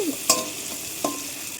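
Green chilies, onion and tomato fry in fish oil with a steady close sizzle, broken by two sharp clinks of a spatula against the pan.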